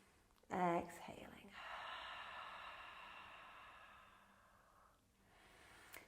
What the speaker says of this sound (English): exhaling slowly out through our mouths